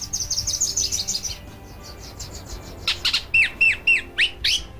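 Several birds call in shrub steppe habitat: a run of quick high chirps, then a series of sharp, repeated squawking calls close by over a quiet background with faint insect hum.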